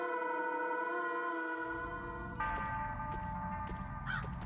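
In the video game Crow Country, a steady tonal drone plays throughout, and from about halfway a rumbling texture comes in with a few short crow caws on top; there is no talk.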